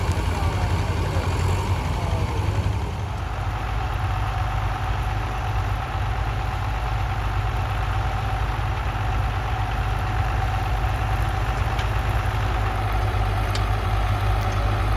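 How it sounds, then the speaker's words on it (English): A John Deere 2510 tractor pulls an International number 70 plow with Super Chief X Series bottoms at a national plowing contest, its engine a steady, close, loud diesel rumble throughout. "Roger Foreman of Ohio, also on a borrowed local tractor, this time a John Deere 2510, pulling his International number 70 plow"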